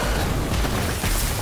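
A Bombastic Bomb spell goes off in a Harry Potter video game as a loud, dense, rumbling blast that fills the whole moment with broadband crackle and boom.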